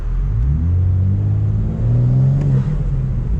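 A 2022 BMW M4 Competition revs on a night drive, its engine a loud, close rumble rising and falling in pitch through a continuous drone.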